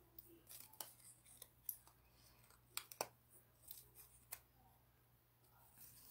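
Scissors snip through paper for a Valentine treat box, giving quiet, close, irregular cuts and clicks against a faint room hum.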